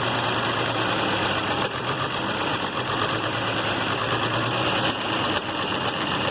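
An International Harvester Farmall 706 tractor engine with a new carburetor idles roughly, loud and near, a dense chugging rumble with an uneven, knocking pulse and no voices.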